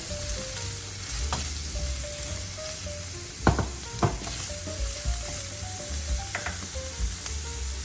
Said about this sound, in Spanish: Nuestro aceite se ha calentado, vamos a agregar nuestra cebolla. Revolvemos un poco.